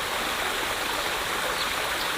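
Steady broadband rush of the Dapya River flowing, constant and fairly close, with no voices or other sounds, at a rainy mountainside campsite in Cabangan, Zambales.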